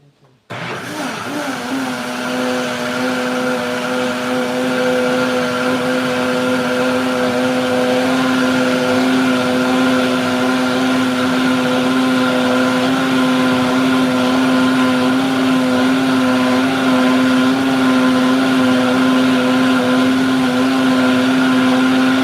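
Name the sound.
electric blender running, blending Nigerian moi moi ingredients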